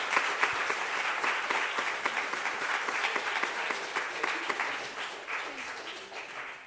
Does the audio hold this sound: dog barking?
no